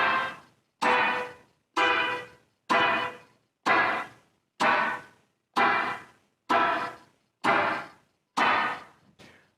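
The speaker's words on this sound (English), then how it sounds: "you're choking the strings and preventing the chord from ringing out." Tight, palm-muted guitar strums for a song, about ten short choked chords cut off sharply, falling in an even, steady pulse with brief silences between.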